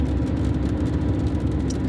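Steady low rumble of a car engine cruising along the road, a constant whirring drone with light rain just starting outside, no voices over it.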